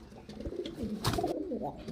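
Highflyer pigeons coo softly and close by in a brief, throaty murmur with no other sound.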